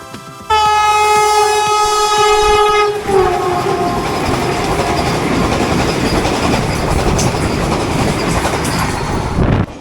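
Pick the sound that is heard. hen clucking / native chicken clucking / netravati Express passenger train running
netravati Express passenger train running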